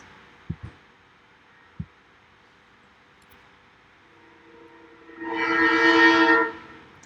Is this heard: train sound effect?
yes